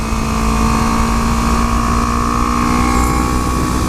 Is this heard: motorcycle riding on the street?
yes